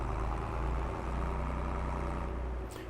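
A Fiat tractor idles in Farming Simulator, a steady low engine rumble holding at an even pitch throughout with no voices over it.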